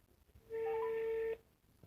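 Telephone ringing with a single steady electronic ring tone lasting under a second, moderately loud over a faint room background.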